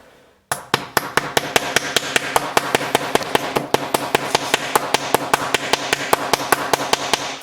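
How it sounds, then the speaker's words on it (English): Repeated sharp metallic hammer strikes driving a pin into a VW flip key shell, in a steady rhythm, about two or three per second, loud and close, continuing without pause. "We're just going to hammer it in."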